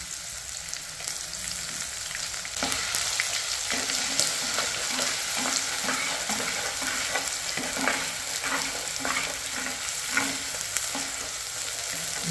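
Ginger frying in oil for a village-style chicken curry makes a continuous close sizzle with crackles and a few stirring scrapes, and no one speaks.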